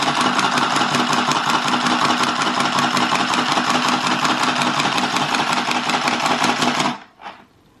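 A handheld sewing machine stitches in a steady, buzzing motorized whir with rapid rhythmic ticking, close and loud, running alone for about seven seconds before cutting off abruptly with a brief final clunk.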